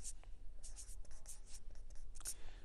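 Marker or chalk strokes scrape across a board during an accounting lesson in a classroom, a run of short, fairly faint scratchy bursts under a quiet room hum.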